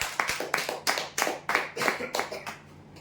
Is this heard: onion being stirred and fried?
no